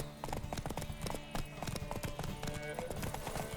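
Horse hooves clip-clop in The Witcher 3: Wild Hunt, a quick irregular run of hoofbeats with occasional horse sounds, fairly faint and mixed with game audio.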